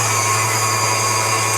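An electric mixer whirs steadily as it beats butter with powdered sugar for lemon bar dough, a constant close motor hum with no pauses and no voices.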